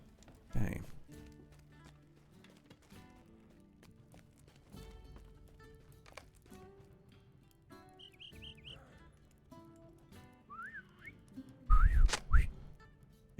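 A whistle blown in a video game, with bright tonal whistle bursts near the middle and end, set among game music and effects, with a loud thumping burst at the end.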